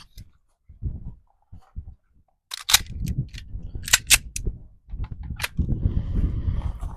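Sharp, separate reports from a Prodigy Elite pistol crack out during a shooting drill in an uneven sequence of several shots, with quieter knocks and handling noise in between.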